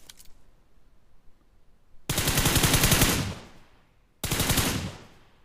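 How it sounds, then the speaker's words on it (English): M4 assault rifle fired in the mobile game PUBG Mobile: two loud, rapid full-auto bursts, the first about two seconds long and the second shorter, after a quiet lead-in, with no talking. "Now we're gonna use the M4."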